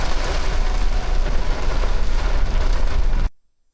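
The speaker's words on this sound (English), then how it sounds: "you can hear the rain just pummeling the truck right now" Heavy rain pounds on a four-wheel-drive truck during a grouse and woodcock hunting outing, a loud dense steady roar of drumming that cuts off abruptly near the end.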